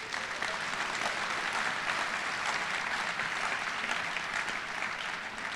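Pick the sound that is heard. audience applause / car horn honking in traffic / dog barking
audience applause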